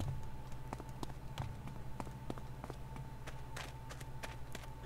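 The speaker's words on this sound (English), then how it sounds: "Sounds like you're walking on dirt" Footsteps on dirt in the video game The Dead Linger, a steady run of soft, dull thuds at an even walking pace over a low constant hum.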